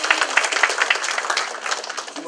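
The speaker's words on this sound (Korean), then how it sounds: "여러분 박수로 그렇게 격려해 주시기 바랍니다" Audience applause at a campaign launch rally for a state senate candidate, a dense steady clapping filling the room for a couple of seconds, fairly loud and close.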